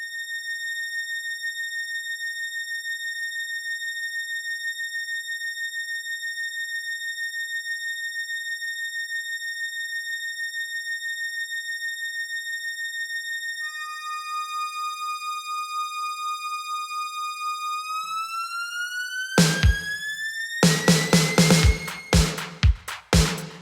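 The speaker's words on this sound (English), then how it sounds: "the Jupiter 8, and that is used to give like a climbing, stringsy climbing effect, which you'll hear now" Roland Jupiter-8 synthesizer giving a climbing, string-like effect: a long steady pure tone that later glides upward in pitch, ending in a few louder bursty chords, with no talking.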